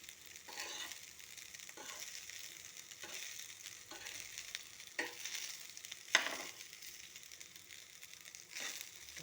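Fried rice seasoned with soy sauce sizzles in a pan while being stirred, with repeated scraping strokes of the spatula over a steady frying hiss and one sharper clatter midway.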